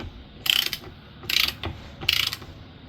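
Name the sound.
ratchet tightening bolts on a Jeep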